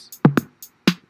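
A short drum machine pattern plays alone, with deep kick thumps and bright hi-hat ticks spaced in a sparse, steady rhythm.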